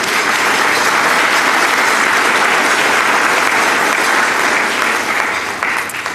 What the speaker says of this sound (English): we'd like to give them a round of applause for being our community partners.